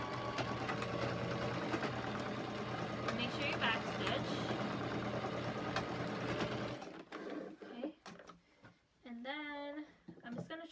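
A sewing machine backstitches trim onto a canvas bag, running as a loud steady hum for several seconds before stopping, after which a person talks.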